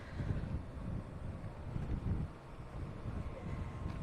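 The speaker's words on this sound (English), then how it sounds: "Woo, windy." Strong wind buffets the microphone at a diesel fuel stop at Ukla on the Nullarbor, a steady low rumbling roar with gusts swelling and easing throughout, no talk.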